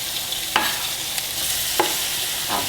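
Garlic and onions hit a hot Dutch oven beside seared pork shoulder for carnitas, giving a steady close sizzle with a few brief scraping stirs.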